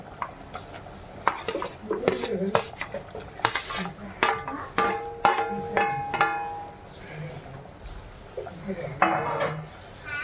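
Fried mushroom and paneer tipped into gravy in a pan, heard as a run of clanks, scrapes and clinks of utensils on metal with a low sizzle, and a voice talking between the sounds.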